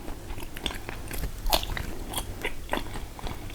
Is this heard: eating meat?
yes